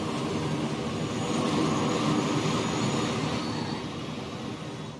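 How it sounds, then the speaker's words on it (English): Steady jet airplane engine roar as a plane lands in the Transport Fever 2 game, a continuous broadband rumble that holds for a few seconds and then eases slightly toward the end, with no voices. "Plane has just landed."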